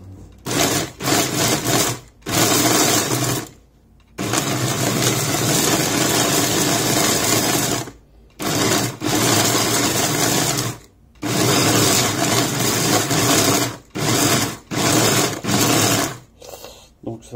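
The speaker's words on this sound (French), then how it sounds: "le mixeur n'est pas du tout puissant" A Philips HR2657 Promix immersion blender runs in loud, steady whirring bursts of a few seconds each, stopping and restarting repeatedly with short silent breaks.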